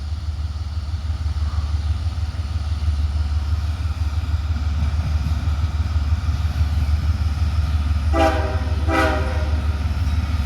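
Two short, loud train horn blasts sound near the end over a steady rumble of a passing grain train with three locomotives, in Abbeville.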